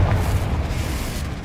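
The Confringo explosive spell in a Harry Potter video game goes off as a deep, rumbling blast that hits hard at once and then settles into a sustained roar, heard alone.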